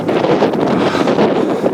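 Loud, gusty wind buffets the microphone continuously, a rough roaring rush with no voices, on a cold backcountry trail in Glacier National Park.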